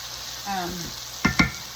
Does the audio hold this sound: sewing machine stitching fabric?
no